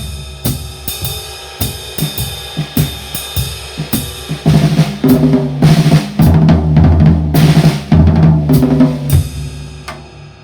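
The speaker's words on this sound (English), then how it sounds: "So I could play a 5-stroke roll just starting on each of the quarter notes" Five-stroke rolls on a drum set, first as sparse, crisp snare bursts, then denser patterns with kick, toms and cymbal crashes building up, loud and close with no talking.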